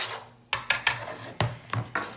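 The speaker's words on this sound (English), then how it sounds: "And I'm just going to whisk that all together." Whisk strokes mixing confectioner's sugar and salt in a bowl, heard as a quick series of sharp metallic clicks and taps against the bowl, close and clear.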